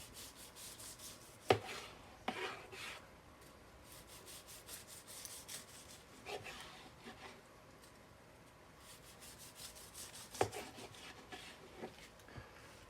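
A knife saws across the grain of cooked picanha beef, smoked brisket style, in quiet, soft rasping strokes, with a few sharper scrapes against the cutting board.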